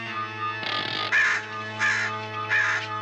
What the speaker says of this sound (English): That bird gives me the creeps.